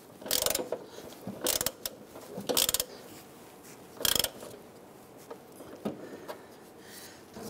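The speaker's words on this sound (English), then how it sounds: "Tighten down your inboard bolts." Ratchet clicking as bolts are tightened on a 1997-2006 Jeep Wrangler grille, short sharp bursts of metallic ratcheting spaced a second or so apart, close and fairly quiet.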